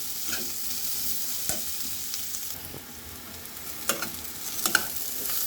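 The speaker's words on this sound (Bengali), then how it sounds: "একটু বেশি করে পেঁয়াজ রসুন দিতে হবে দিলাম" Onion and garlic frying in a pan for a traditional northern Bangladeshi shidol dish, with a steady soft sizzle broken by a few louder scrapes and clicks of stirring.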